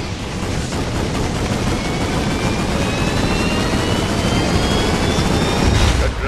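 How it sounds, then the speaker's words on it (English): Combustor weapons in the video game Ratchet and Clank All 4 One fire together in a supercharged blast: a loud, steady roaring rush with a thin rising whine, continuous and close, with no talk. "Try firing your combustors at once to deliver a supercharged blast of power."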